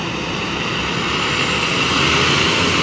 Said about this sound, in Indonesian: Ini Hino mesin depan